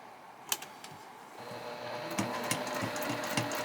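A sewing machine top stitching fabric runs up close, with a steady, quick mechanical stitching rhythm that speeds up partway through, plus a few isolated clicks at the start and no talking.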